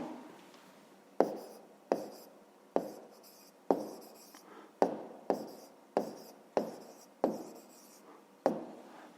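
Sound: writing by hand

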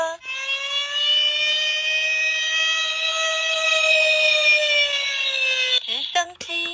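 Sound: fire engine siren

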